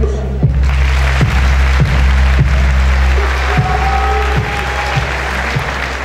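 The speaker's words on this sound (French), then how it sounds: "Vous pouvez les applaudir." Audience applause greets the first candidate at the Miss Picardie 2017 beauty pageant, a steady sustained clapping from a crowd filling the hall, loud and continuous throughout with faint background tones.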